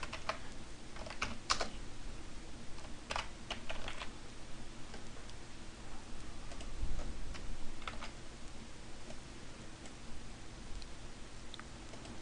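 Someone types on a computer keyboard, with steady runs of close key clicks and a few louder taps over a low room hum, no voices.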